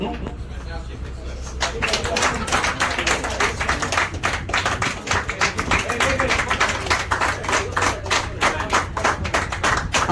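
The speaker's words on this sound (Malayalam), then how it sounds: "മുഴുവൻ ആൾക്കാരൊന്ന് കൈയടിച്ച് പ്രോത്സാഹനം നൽകണം" Audience at a cycling club gathering clapping in encouragement, a dense burst of handclaps that starts after a quiet opening and carries on steadily, fairly close and loud, with a little talk mixed in.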